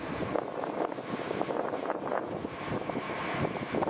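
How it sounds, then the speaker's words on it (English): A B-52 bomber taxis along a taxiway, a broad steady engine roar heard from a distance, mixed with gusty wind buffeting the microphone throughout. "The windsock indicates favorable conditions as the next aircraft taxis into position."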